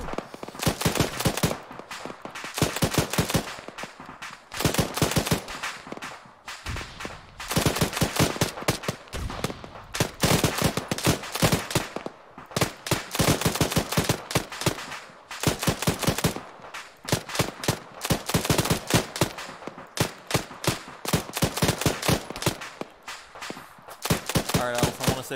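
Sustained machine gun bursts in a military shooter game, rapid rattling fire in repeated long strings separated by short pauses, loud and close, with faint voices now and then between bursts.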